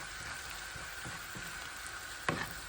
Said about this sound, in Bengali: এগুলি ভালো করে একটু তেলের মাঝে ভুনা করে